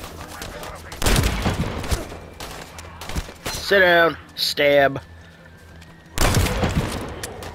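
Bursts of gunfire in the video game The First Descendant crackle around a stretch of talk, loud near the start and again near the end, with a short electronic melody between.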